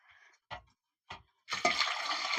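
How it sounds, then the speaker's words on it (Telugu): A couple of brief clinks, then a steady, full rush of water poured into a pot of potatoes, close by and fairly loud. "ఇలా నీళ్ళు పోసుకుందాం."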